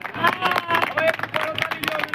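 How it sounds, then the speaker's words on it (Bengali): An audience at a blood donation festival claps in steady applause, with crowd murmur and babble mixed in throughout. "সবাই করতালি দিয়ে অভিনন্দন জানাবেন"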